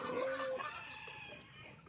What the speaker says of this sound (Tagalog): Ito ang manok natin.